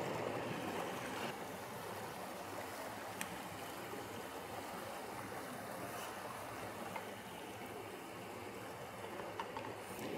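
Water flows steadily through the deep, narrow gorge at Devil's Pulpit in Scotland, a constant broadband rush with no voices and a few faint clicks.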